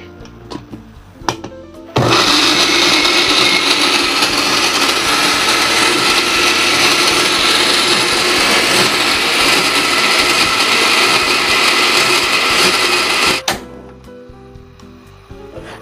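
A blender runs hard for about eleven seconds, grinding red chilies and candlenuts with a little water for an all-purpose peanut sauce, with a loud steady whir that starts and stops abruptly.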